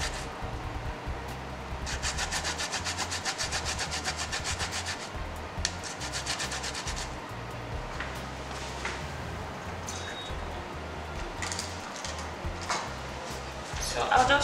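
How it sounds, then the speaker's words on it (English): Fresh ginger is rubbed against a grater in repeated rasping strokes, close and moderately loud, with soft background noise between passes. "So I'll just try and get as much ginger as I can from the grater."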